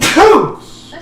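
A person sneezes once, a sharp burst that falls away quickly, fairly close and loud, with a quieter trailing breath or voice after it.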